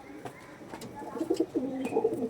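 Domestic pigeons of a non-local breed coo close by in soft repeated low calls, growing busier toward the end.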